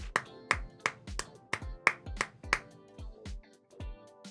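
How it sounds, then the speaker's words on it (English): A small burst of hand clapping marks a goodbye to a departing coach, about a dozen sharp, evenly spaced claps that sound close and fairly faint, with no talking over them. "But, a little applause for Suchek."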